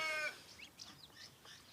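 A short, faint series of soft clucks from chicks with a hen, heard close and quiet, following a brief higher-pitched chirp at the start.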